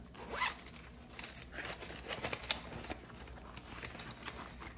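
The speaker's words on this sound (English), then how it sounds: "Now I do have a different pouch, as you might hear, that I just unzipped" A stationery pouch is unzipped close by, with several quick rasping zipper pulls and small scratchy fabric handling noises, fairly quiet and with no talking.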